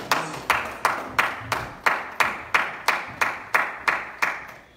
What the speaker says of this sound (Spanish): Demos una ofrenda de aplausos a Cristo el Señor.